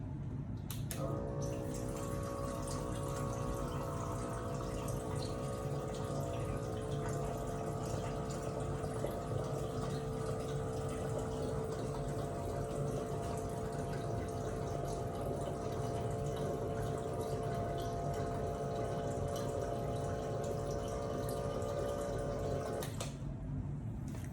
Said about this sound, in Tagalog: kukuha lang ako ng mainit na tubig